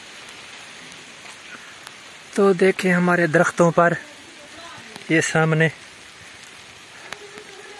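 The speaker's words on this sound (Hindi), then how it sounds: "बारिश जो है काफ़ी ज़्यादा तेज़ हो चुकी है" Heavy rain on village trees in Punjab, Pakistan, a steady hiss of downpour running throughout, with someone speaking over it in short bursts near the middle.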